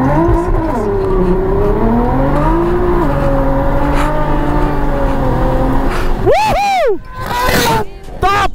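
A drag-strip launch by a motorcycle capable of 300 km/h: a loud engine sustains a droning rev under talk, then near the end it shrieks through a sharp, rising high-pitched acceleration.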